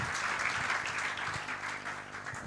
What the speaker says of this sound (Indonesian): Kita sambut dengan berikan tepuk tangan yang meriah buat Kak Daniel